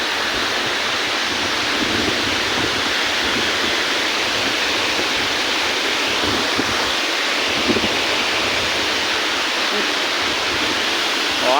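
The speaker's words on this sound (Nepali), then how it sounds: "यस्तो मजाको आउँछ यो झरना," A waterfall rushes in a continuous, dense roar that stays loud and unchanging throughout, with no voices over it.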